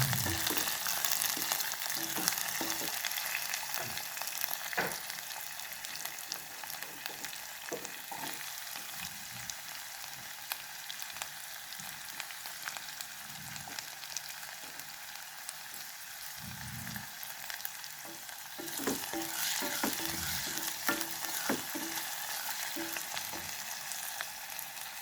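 Salt and curry leaves fry in a pan with a continuous crackling sizzle, occasional sharper pops and stirring scrapes, close and steady throughout with no voices.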